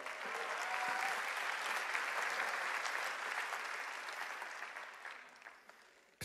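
A church congregation applauds its worship team, dense clapping that swells early and gradually fades before ending.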